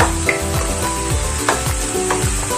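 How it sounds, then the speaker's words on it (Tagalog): Ginataang pakbet vegetables sizzle steadily in a pan while a utensil stirs them, giving a few sharp scraping clicks over the continuous frying hiss. "Halu-haluin lamang po natin"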